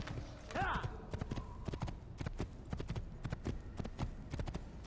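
In the Assassin's Creed video game, a horse's hooves clip-clop in a quick, steady trot, close and clear, with a brief whinny-like sound near the start and no talking over it.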